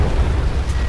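A single explosion rips through a Delta Force: Xtreme 2 battlefield. It leaves a deep, loud rumbling boom that fills the short moment.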